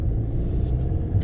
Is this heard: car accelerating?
yes